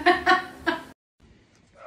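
Farmyard chickens give a few close, short clucks in quick succession, then fall quiet, with faint soft background sounds following.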